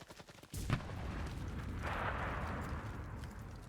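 A SCAR rifle fired in the modern-warfare game Enlisted Modern Conflict, a sharp shot followed by a rolling battlefield rumble of distant fire and explosions that carries on as a low, continuous din.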